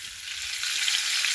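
Catfish sizzles and crackles steadily in a hot pan, a bright hissing fry with no talking.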